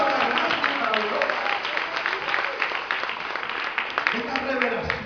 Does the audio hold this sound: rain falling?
no